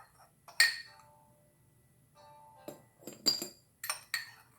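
A spoon clinking against a glass jar while black salt is put inside, a few bright separate taps and scrapes, close and clear in a quiet room.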